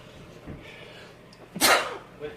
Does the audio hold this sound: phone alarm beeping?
no